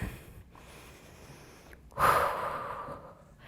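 Deep breathing during an adaptive fitness warm-up of the hips and knees, a quiet breath followed by one stronger, close exhale that trails off gradually.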